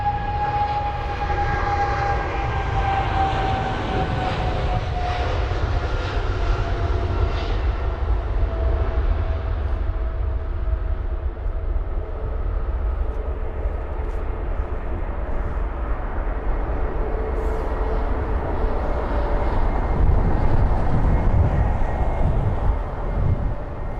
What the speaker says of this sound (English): Got 777 of BA departing now.